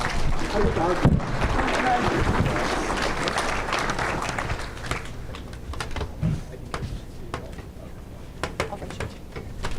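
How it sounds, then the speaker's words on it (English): Applause from the audience at a tractor pullers' awards banquet, a dense clatter of many hands that starts strong and gradually thins into scattered claps. "Let's give her a round of applause."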